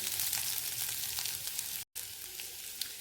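Ginger garlic paste sautéing in a pan for a singara filling gives a steady, close, bright sizzle, with one very brief dropout partway through and no voices.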